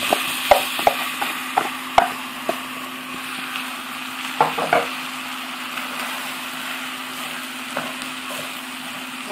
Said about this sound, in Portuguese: Vou dar uma misturadazinha